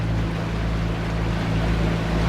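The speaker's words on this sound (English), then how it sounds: "the waves have calmed down a bit now" A boat rolls through sea waves, giving a steady, loud rush of water and hull noise with a low engine hum beneath, continuous and unbroken throughout.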